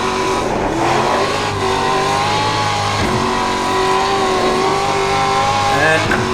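Racing simulator video game car engine held at a steady drone with shifting pitch, rising and falling near the end, loud and continuous over a busy background with speech mixed in.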